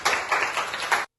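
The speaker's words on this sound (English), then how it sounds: "Give yourselves a round of applause." A ceremony audience applauds in a dense, even patter of many hands for about a second, then cuts off abruptly.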